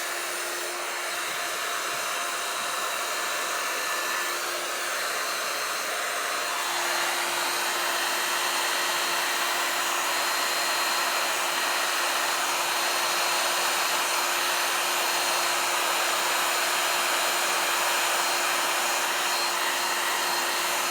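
A heat tool blows continuously over epoxy resin in an ocean beach wave lacing and cells pour, a loud steady whooshing hum with a faint tonal whine, running alone without talk.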